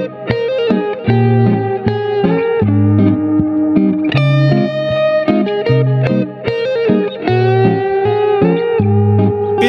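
Restored 1980s G&L SC2 electric guitar played through distortion and other effects, a dense and loud run of chords and notes that continues without a break and has a reverberant, effected tone.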